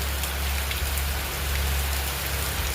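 Steady, dense evening rain pattering on a surface with a low rumbling undertone, continuous and fairly loud throughout, with no voices.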